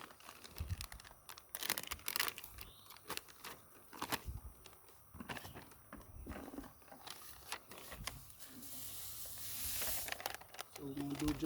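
Organic fertilizer gets mixed by hand for side dressing corn, with rustling, crinkling scrapes and tearing sounds of granules and a bag being worked. A voice talks over much of it.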